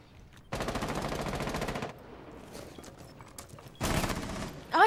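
Two bursts of rapid automatic gunfire from Rainbow Six Siege attrition mode, the first a long sustained volley, a quieter gap with scattered sounds, then a second shorter burst near the end.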